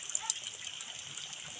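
Water overflowing into a fishpond, heard as a steady, faint rushing hiss with a few brief splashy spikes and no break.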